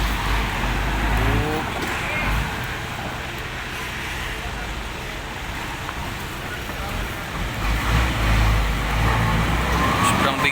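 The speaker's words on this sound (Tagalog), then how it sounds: "Ito, 10-wheeler." A heavily loaded ten-wheeler truck labours up a steep ramp at a port, its engine a loud, continuous low roar that strains and surges over a busy background of other vehicles.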